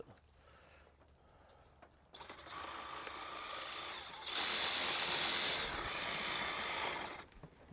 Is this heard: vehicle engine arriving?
no